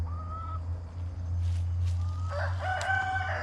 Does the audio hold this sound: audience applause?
no